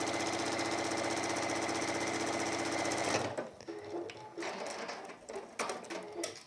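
A sewing machine runs steadily for about three seconds, stitching down the sides of fabric for a gardener's kneeling cushion, then stops, leaving light handling clatter and small knocks.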